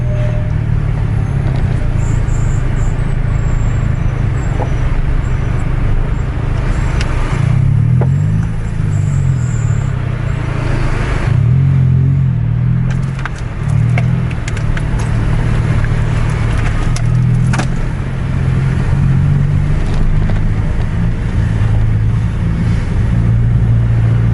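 Volvo and Scania coaches race along a road, a loud, steady engine drone close by with shifting gear and revving tones and heavy road rumble, continuous for over twenty seconds with no voices.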